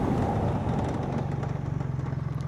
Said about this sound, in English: We'll do an emergency stop. 40 miles an hour.